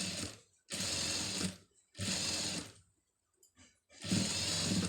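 A sewing machine stitches a seam in matching thread for a pom pom design, running in three loud, steady whirring bursts separated by brief pauses, close up and with no talk.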